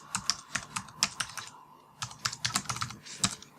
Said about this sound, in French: Et je vais taper le mot de passe.